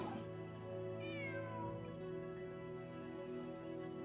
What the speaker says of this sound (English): Meow. Oh, cat.